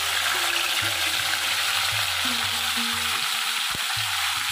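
Onion-tomato paste frying in a pan for chicken curry, a constant close crackling sizzle with occasional faint knocks and stirring.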